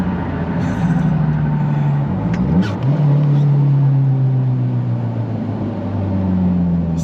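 A fully built Mitsubishi Evo 8 race car accelerating, its engine tone climbing and dropping through gear changes, loud and close with a steady drone throughout.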